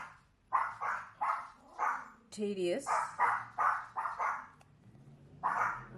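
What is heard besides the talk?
dogs barking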